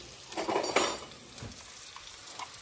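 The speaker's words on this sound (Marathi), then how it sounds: "आणि आता याच्यामध्ये टाकणार आहे मी आलं लसूण पेस्ट." Ginger garlic paste drops into a pan of fried onions, bringing a brief burst of sizzling with a clink of a spoon or utensil, then the frying settles into a quieter hiss.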